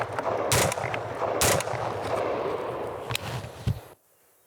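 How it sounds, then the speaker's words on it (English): A Genesis Arms shotgun fires birdshot at close range: several sharp, loud blasts at uneven intervals, the strongest two near the start, followed by rattling and lighter impacts before the sound cuts off abruptly. "simple birdshot at close range with a shotgun will absolutely destroy whatever you want to point it at"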